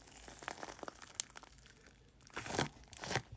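A soap-shaped squishy stress toy with little chips inside gets squeezed, giving scattered soft crinkling crunches early on and two louder, fuller crunching squeezes near the end, close up and with no talking.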